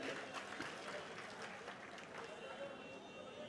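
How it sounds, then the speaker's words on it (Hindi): A large crowd at a political rally claps steadily to welcome guests seated on the stage, dense applause that holds at an even level throughout with a faint hint of voices underneath. "जोरदार ताली बजा के इन लोगों का स्वागत करते हैं"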